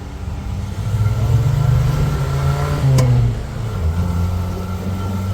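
An old Jeep TJ engine revs and runs a little rough at a veterans benefit car event in Hillsboro, Ohio, with a low, uneven droning rumble that swells and dips, close and loud, with no talking.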